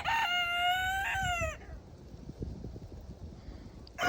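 A rooster's crow rises and holds for over a second on a farm, followed by quieter clucks and shuffling from a group of chickens close by, with ducks and a goose nearby.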